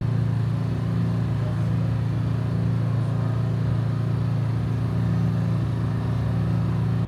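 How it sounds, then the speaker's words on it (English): 2025 MG7 fastback with a 2-liter turbo engine and 9-speed automatic, running with a steady, loud low-pitched engine hum close by, holding a fairly constant pitch and volume with no talking. "Now the MG7 does have a 2-liter turbo engine which produces 261 horsepower and 405 Newton meters of torque."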